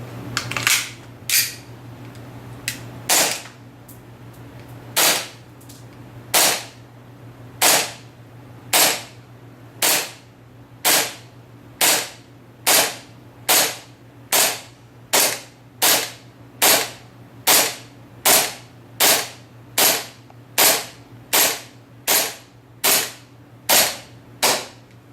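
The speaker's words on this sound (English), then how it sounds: "Now I want to fire these test samples, and they carry 22 rounds, 6mm BB bullet" An Umarex Glock G19X green gas airsoft pistol, loaded with 22 rounds of 6mm 0.2 g BBs, fires shot after shot, each a sharp crack with a metallic slide clack. The shots come in a steady, evenly spaced series, loud and close, with no talk.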